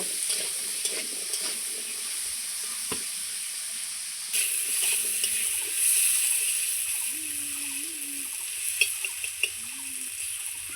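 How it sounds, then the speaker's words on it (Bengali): Pumpkin pieces with salt and turmeric sizzle continuously in a hot pan, with occasional scraping and stirring clinks; no talking. "দেখুন খুব সুন্দর ভাজা হয়ে যাচ্ছে মিষ্টি কুমড়োগুলো"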